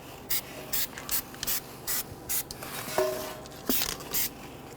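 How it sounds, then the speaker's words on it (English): A light coat of anti-seize compound is brushed onto a Dodge Charger wheel hub face as a series of quiet, evenly spaced rubbing strokes, about ten short swishes, with a soft click near the end. "We're going to go ahead and put a light coat of anti-seize compound on our hub face."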